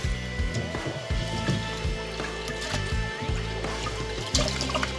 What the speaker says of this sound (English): I'm giving my rice a second wash.